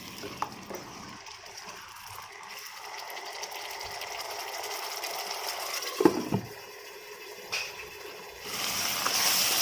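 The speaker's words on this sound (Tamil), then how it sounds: "நல்லா கொதித்து ட்ரை ஆகுது." Spicy masala paste simmers and boils down in a pan as it dries, giving a soft, steady bubbling hiss with faint clinks, fairly quiet and close, with no talk.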